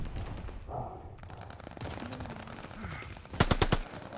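Bursts of gunfire in the shooter game Call of Duty Vanguard during a Domination match, a sharp cluster of close, loud shots near the end over a busy background of battle noise.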